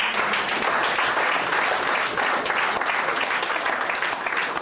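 A church congregation applauds steadily throughout, dense continuous clapping with some voices mixed in, loud and close.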